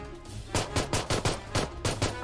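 About nine quick gunshots in PUBG Mobile in an even rhythm, each a crisp crack, heard fairly faint with no talk over them.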